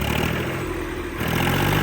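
Swaraj 855 tractor engine running steadily at close range, a continuous low mechanical rumble with clattering overtones, loud and unbroken with no voices.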